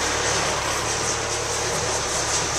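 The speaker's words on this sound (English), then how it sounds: "Hope you can hear me over the tractor" A steady, loud tractor engine drone runs without pause during hay baling on a farm, a broad rumbling roar close by with no breaks or voices.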